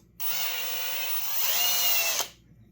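A power drill whines steadily for about two seconds as its bit bores a port in a Husqvarna 334T chainsaw, rising slightly in pitch before cutting off abruptly.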